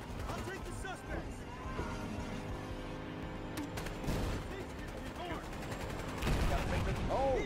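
A car blowing up in Battlefield Hardline amid a burst of gunfire, sharp cracks and a heavier blast near the end, with players talking over the noise.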